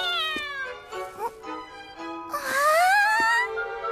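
A cat in an animated show meows several times in a row, close and fairly loud, with one longer, drawn-out meow near the end.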